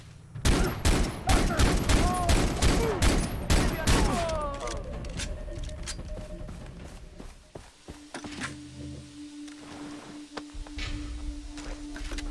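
Gunfire in Far Cry 3 bursts in a dense run of sharp, loud shots for the first few seconds, then fades into a quieter rumble with a steady tone.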